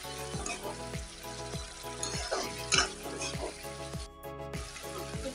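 Jackfruit curry frying in oil in a pan gives a steady, close sizzle with some stirring, partly masked by rhythmic background music.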